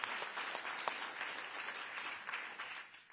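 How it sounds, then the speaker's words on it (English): Applause from an arts and culture awards ceremony audience, fairly quiet and distant, a steady patter of clapping that fades toward the end. "that's worth applause"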